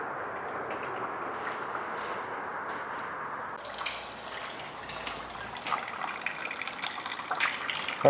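Fuel draining from the tank of a Mercedes 380SL, a continuous gushing liquid stream with splashy, trickling texture that grows slightly more turbulent toward the end, with no talking.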